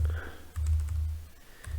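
Keys clack on a computer keyboard in a run of quick, close, fairly loud taps with short pauses, beneath a steady low hum.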